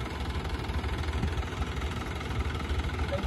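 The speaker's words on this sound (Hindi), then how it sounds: "कितना जोर लगाता है ट्रैक्टर।" A Mahindra 575 DI tractor engine chugs steadily with a low, knocking diesel rhythm, close and continuous while straining to back a loaded soil trolley.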